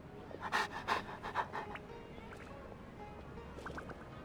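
A dog named Swoof pants in Genshin Impact, with quick rhythmic breathy bursts up close over the first couple of seconds, then softer huffs and faint ambient game sounds.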